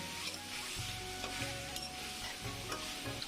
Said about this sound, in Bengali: ফুলকপি দিয়ে একটু মিক্স করে নিয়ে ভালোভাবে মশলার সাথে মিক্স করে আমি ভালোভাবে কষিয়ে নিব